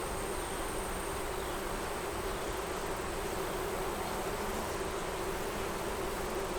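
A bee colony buzzes steadily around a hive frame loaded with brood, honey and nectar, a continuous dense hum with no breaks, fairly close but soft.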